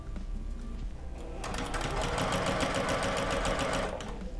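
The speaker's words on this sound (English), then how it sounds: "we don't want to cause any trouble with our sewing machine" A sewing machine stitching activewear fabric runs steadily, its rapid rhythmic needle clatter speeding up partway through and staying close and even.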